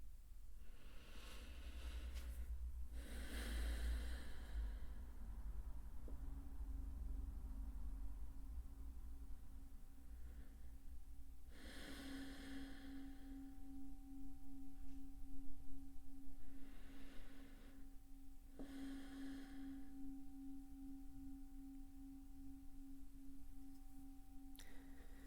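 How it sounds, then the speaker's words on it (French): Three slow, deep breaths during a guided relaxation session, heard as soft, airy swells spaced several seconds apart over a faint, steady sustained tone. "On va commencer par prendre 3 grandes respirations."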